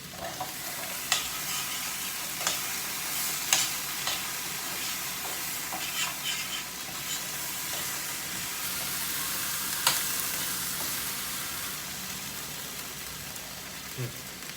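Potatoes frying in a pan sizzle loudly and continuously, with occasional scrapes and taps from a spoon stirring them, and faint talk in the background.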